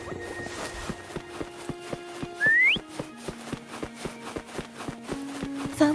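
A short rising whistle calls Foam in the Wuthering Waves game, heard once over steady rhythmic footsteps and light game background sounds.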